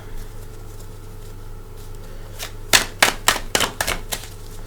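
Tarot cards being shuffled by hand: a quiet stretch, then a run of about six sharp, papery riffling bursts in quick succession, close and fairly crisp.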